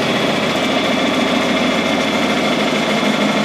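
A John Deere 4020 tractor engine runs steadily with a continuous low, throbbing chug, loud and close, with no talking.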